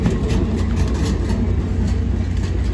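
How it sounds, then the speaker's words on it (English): A heavy Amtrak Capitol Corridor train arriving at San Jose station rumbles steadily at close range, a continuous low drone with rattling undertones and no voices. "this train just arrived right now"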